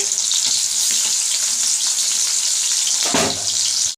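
Onion frying in hot oil in a pan, a steady loud sizzle running throughout with a brief clatter near the end, no talking.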